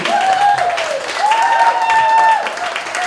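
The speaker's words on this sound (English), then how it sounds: "But I think they do deserve another round of applause." An audience at a progressive group's meeting claps for a band, a dense, steady wash of applause with a sustained wavering tone riding over it.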